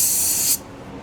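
A paint spray gun set to about 6 PSI at the gun hisses in one loud, steady burst for half a second, then cuts off abruptly into quiet.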